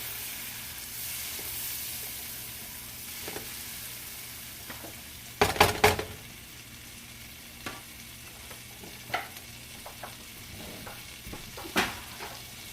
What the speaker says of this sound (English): Mix that butter and stuff in. Mix everything around.